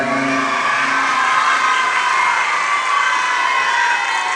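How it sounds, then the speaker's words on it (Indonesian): Large crowd of children cheering and clapping for the regent at a public religious gathering, a loud, dense, continuous roar of voices and applause filling the whole stretch. "Tepuk tangan anak-anak untuk Bupati kita yang keren."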